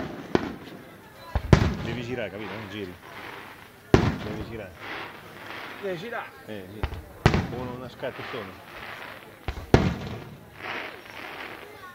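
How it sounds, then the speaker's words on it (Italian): Fireworks display on a Ferragosto evening at a beach club, with about five sharp, loud bangs bursting at irregular intervals over near-constant Italian conversation. "Sono i fuochi d'artificio, ragazzi."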